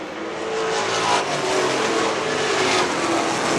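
Pro stock race cars roar around an oval track in a steady, loud wall of engine noise, with revving surges as the pack races through the closing laps.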